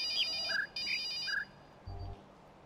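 A phone ringtone in the puzzle game The Witness plays two short bursts of a chirpy trilling melody with a tonal ring, followed by a brief low thud after a pause.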